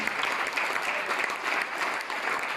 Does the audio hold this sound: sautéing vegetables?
no